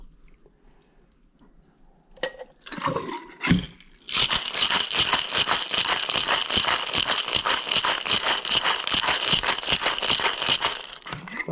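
Some handling and a clatter, then vigorous rhythmic rattling of ice inside a cocktail shaker while mixing a Tortuga cocktail, fast and steady for several seconds, close and loud.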